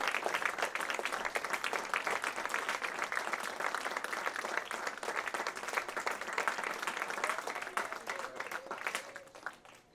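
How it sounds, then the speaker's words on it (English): Sustained applause from an awards ceremony audience, a dense even roll of many hands clapping throughout and fading slightly at the end, with a faint voice beneath. "Let's keep clapping for these guys."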